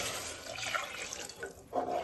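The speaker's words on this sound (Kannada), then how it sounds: "ಸೊ ಅದಕ್ಕೆ 2ರಷ್ಟು ನೀರು ಹಾಕೋತಿದ್ದೀನಿ." Water is poured into a pot over rice for vegetable biryani, a quiet, continuous splashing gush that swells again near the end.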